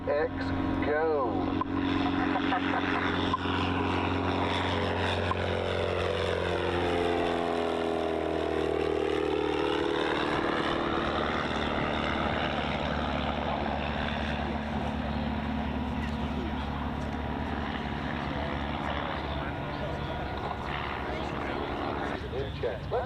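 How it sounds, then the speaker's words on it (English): A Piper Cub propeller airplane comes in to land at an airshow, its engine droning with a clear swell and pitch sweep as it passes, while people talk over it. "so you're looking at a Piper Cub coming in"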